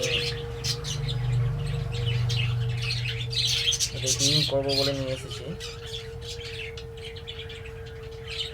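A pair of creamino lovebirds in a bird-keeping setting gives close, repeated chirps and squawks while someone talks over them, with a short burst of louder calls midway.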